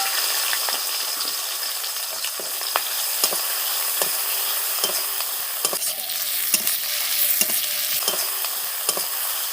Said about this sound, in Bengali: ওই যে মাছ ভাজছি।